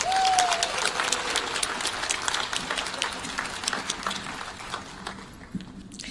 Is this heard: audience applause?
yes